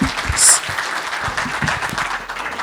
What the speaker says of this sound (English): we're going to call this a close and give a big round of applause, please